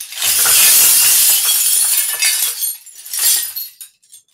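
A homemade silent-film-era glass crash effect built to mimic a Barry Drum Company device, a box filled with glass, gives a loud close shattering crash followed by a second jangling shake and tinkling settle.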